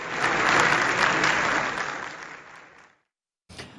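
Members of the Turkish parliament give sustained applause, a dense, loud wash of many hands that swells, then fades and cuts off, followed by a brief return of sound at the end.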